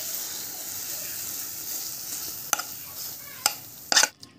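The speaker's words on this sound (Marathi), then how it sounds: "आता हे स्प्रेड करून घ्यायचं" Hot coconut vadi mixture spread across a plate, a soft continuous scraping hiss with a few sharper scrapes and taps of the spoon near the end.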